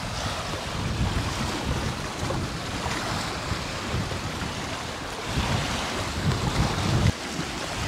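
Sea waves wash steadily onto a small beach in Lerwick, Shetland, a continuous close surf with gusts of wind noise across the microphone and no talking.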